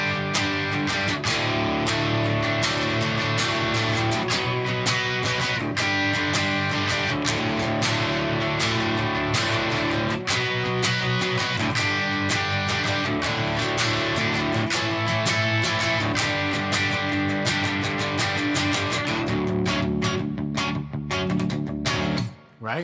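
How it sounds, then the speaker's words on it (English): Electric guitar playing a big drop D barre power chord and riff: loud, dense, sustained strummed tones with rhythmic attacks, running continuously for over twenty seconds before cutting off abruptly at the end. "this power chord or this big drop D bar chord"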